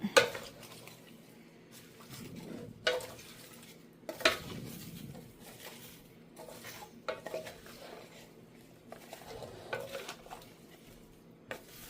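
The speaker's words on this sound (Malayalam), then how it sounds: "എല്ലാം കൂടെ ഒന്ന് മിക്സ് ചെയ്ത് കൊടുക്കാം" Raw mango aviyal vegetables being stirred together in a pot, with intermittent scraping and clinks of a spoon against the vessel and soft squishy mixing sounds, fairly quiet and close.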